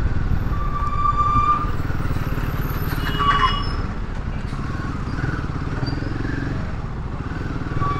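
A Royal Enfield Himalayan 452 motorcycle pulls away in low gear on a test ride, a steady close engine drone that swells early and eases slightly toward the end, with faint clatter and no talking.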